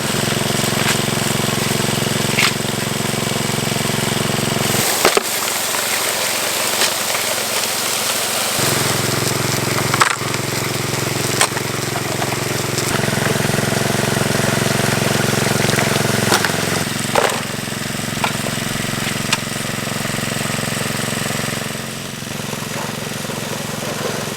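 An engine-driven water pump runs steadily at a gold dig, a loud, continuous rattling engine drone with occasional knocks and clanks throughout, no speech.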